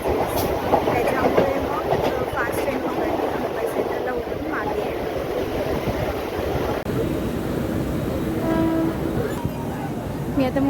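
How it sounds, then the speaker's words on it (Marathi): Crowded Mumbai local train riding near Dadar, with passengers standing inside; a continuous loud rumble and rattle of the moving carriage runs throughout, with voices talking over it. "आलीच आहे ट्रेन चला पकडूया"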